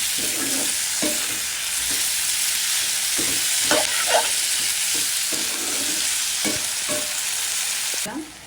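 Papaya pieces and whole green chilies sizzle steadily in a hot pan, with repeated scraping stirs of a spatula breaking through the constant frying hiss, close and fairly loud throughout.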